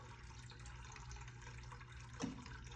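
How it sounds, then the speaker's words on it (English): An automatic dog water bowl fills with a soft, continuous trickle of running water, faint and steady, with one brief splashy bump near the end. "it's filling, it's filling."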